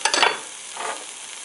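Oats bhel mixture frying in a pan while being stirred, a short burst of scraping and sizzling up front, then a softer second stir, close and alone with no talk.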